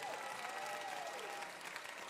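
A crowd at a live music show applauds steadily, a dense patter of clapping with a faint voice underneath.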